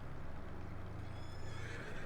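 Horse whinny in Farming Simulator 22, a drawn-out neigh over steady background noise and faint hoof clatter, close and fairly loud across the short clip.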